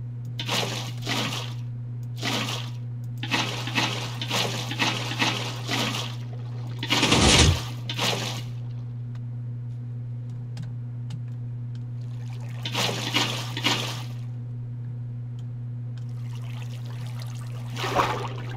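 Water flowing in a Minecraft kelp farm, steady trickling and pouring bursts recurring in clusters over a constant low game hum, no talk.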